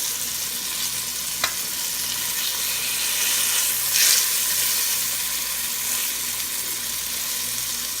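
Breaded chicken pieces fry in oil in a pan over medium-high heat, giving a steady, even sizzle that runs throughout with a brief tick of stirring.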